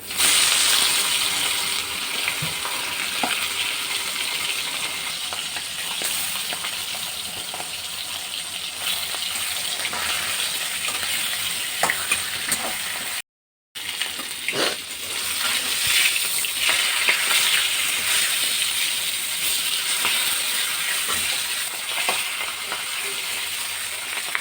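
Hilsa fish heads frying in hot oil in a wok, a continuous crackling sizzle with scattered pops and spatters, steady throughout apart from a brief cut near the middle.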